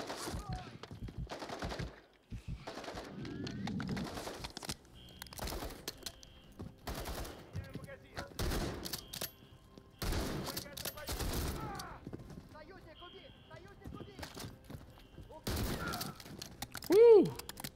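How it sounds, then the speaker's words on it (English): Shotgun and other gunfire in the Call of Duty Modern Warfare 3 campaign, played on regular difficulty: repeated loud blasts and bursts over game sounds and music, with a player talking over parts of it. "Getting a kill with a shotgun, man, it always feels good."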